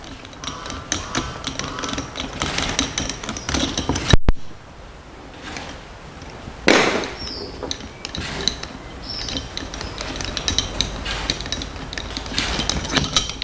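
Bolt being worked loose from a starter solenoid on a vehicle starting system, heard as clicking, ratcheting metal mechanism sounds near the start, then a gap and a sharp clack, with softer tool noises after.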